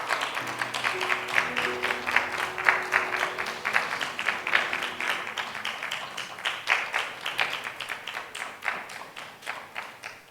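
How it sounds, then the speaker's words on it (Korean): Church congregation at a Sunday service clapping in a long, even rhythm, many hands striking together in near-unison beats, with faint voices under the clapping at the start. "박수 소리가 긴 것 보니까 축복하는 마음이 그만큼 간절하신 것 같습니다"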